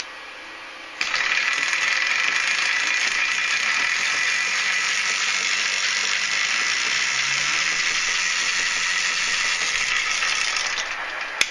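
A spare-parts ebike build's drivetrain spins up and runs steadily, its lengthened chain rubbing against the frame in a continuous fast rattling, whirring grind that starts abruptly and holds for about ten seconds, close and fairly loud.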